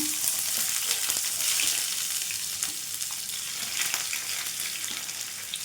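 Thinly sliced onions, three of them, sizzle and fry in a pan of chicken curry, a steady close hiss with occasional stirring scrapes and no talking.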